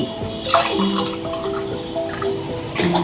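Water pours and splashes into a glass, with trickling and gurgling tones that rise as it fills; close by, no talking. Two glasses of water for a home cold-and-cough remedy.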